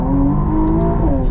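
McLaren Artura Spider pulling hard off a launch-control start in track mode, engine note loud and close and climbing steadily with a quick shift-like dip near the end; no speech.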